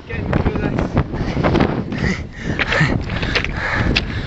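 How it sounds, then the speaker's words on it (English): Strong gusty wind buffets and rumbles continuously near the top of Ben Nevis, loud and close, with a voice faintly mixed in. "it's getting windy"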